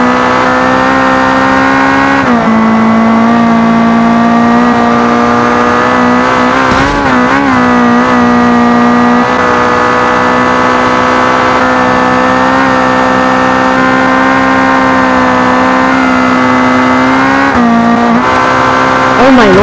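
A speed bus engine revving loud and close in a steady sustained drone, with pitch dips and rises around shifts before the crash; a voice may sound over it.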